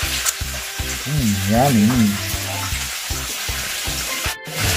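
Mackerel fries in a pan as tomatoes go in, a loud, constant sizzle with stirring scrapes, while a voice speaks briefly over it.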